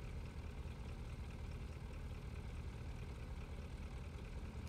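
Military truck engine idling in the BeamNG driving game, a steady low rumbling drone with no break and faint, even throughout.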